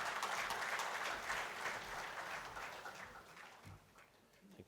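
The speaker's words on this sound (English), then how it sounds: "Please welcome him with a round of applause" Conference audience applause, a dense wash of many hands clapping, steady at first and then slowly thinning and fading toward the end.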